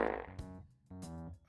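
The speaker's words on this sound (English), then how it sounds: "I'm actually thinking of removing the fart sounds." A buzzy, tonal fart sound effect plays twice during a Persona 5 game stream, each blast a short, droning raspberry at moderate volume, with no talking.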